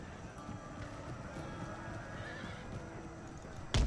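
Cavalry horses of horse grenadier units in the Empire: Total War strategy game neigh and whinny faintly over a steady battle ambience, with hoof clatter and a louder burst at the very end.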